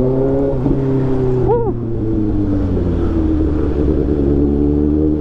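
A 2024 Kawasaki ZX-6R fitted with an AR aftermarket exhaust revs hard close by, one sharp throttle blip climbing and falling over a steady loud engine drone.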